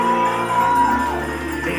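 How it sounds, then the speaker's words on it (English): A town hall audience shouts and cheers in welcome of the Prime Minister, loud close whoops and yells over a brief swell of crowd noise with a sustained tone running through. "we want to welcome him with a wonderful round of applause as he stops his way in, Dr. Harris."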